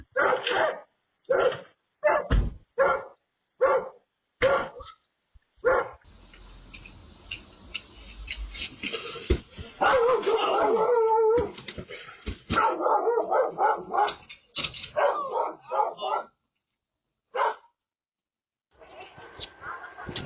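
Guard dogs bark in repeated sharp bursts, loud and close, then break into a longer stretch of howling and mixed barking with a few more isolated barks near the end.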